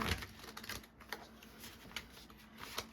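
Soft, quick riffling and snapping of tarot cards being shuffled close by, quiet and uneven, with no speech.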